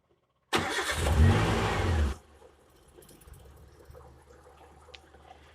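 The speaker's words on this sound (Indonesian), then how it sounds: "Sekarang kita nyalakan lagi mesinnya." A Suzuki Zebra Espass car, serviced during a radiator flush, cranks with a loud, close starter whir lasting about a second and a half, then settles into a quiet, steady idle.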